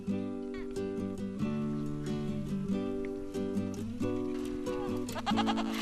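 Goats bleating repeatedly in the Gobi Desert as young goat kids are released from an overnight pen, several overlapping calls close by with a steady livestock din.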